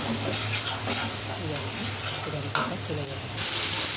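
Pabda fish fries with ground spices in a pan, giving a continuous close sizzle with stirring scrapes and a brief clatter midway; a voice speaks softly underneath.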